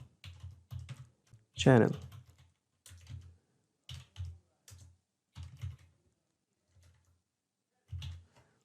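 Short bursts of computer keyboard typing as a workflow name is entered, with clustered key taps separated by pauses and one brief spoken word in the middle.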